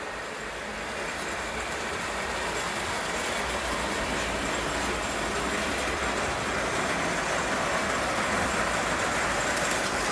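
A Lionel 6 model train runs steadily and close by, giving a continuous rumbling whir with a faint rail clatter that builds slightly after the first second and then holds even throughout, with no talking.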